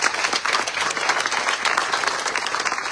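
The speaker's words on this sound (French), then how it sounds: "je vous demande de l'applaudir" Audience at a French local campaign presentation applauding a running mate, a close, lively round of clapping with distinct individual claps pulsing through a steady crowd wash, no talk over it.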